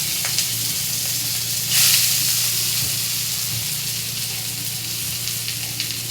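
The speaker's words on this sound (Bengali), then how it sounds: "ঘি দিয়ে আমি চালটা একটু নেড়ে চেড়ে নেব।" Rice being stirred and fried in ghee, a continuous close hissing sizzle with a brief louder burst of steam and light scraping from stirring.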